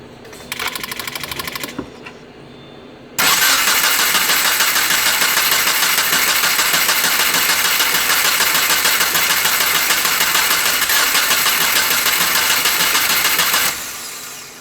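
An engine swapped into a Subaru Crosstrek cranks briefly, pauses, then catches and runs steadily at a loud, even idle for about ten seconds before cutting off.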